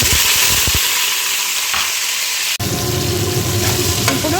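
Fenugreek, cumin, dried chilli and mustard seeds frying in olive oil in a home kitchen: a steady loud sizzle with small popping crackles and a couple of stirring scrapes, one sharp clack partway through, no voices.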